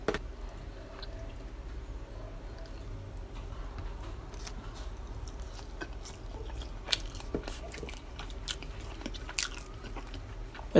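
Crunchy fries from a Shake Shack meal being bitten and chewed close to the mic, with scattered crisp crunches over a steady background hum of a restaurant setting.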